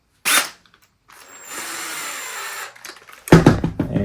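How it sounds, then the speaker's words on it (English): A cordless drill drives stainless bolts on an RC car in a couple of short whirring bursts, separated by brief pauses, fairly loud and close. "Get our drill."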